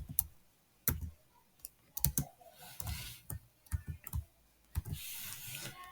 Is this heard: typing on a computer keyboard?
yes